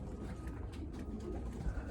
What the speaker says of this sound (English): Got the ice pigeons nice and clean today.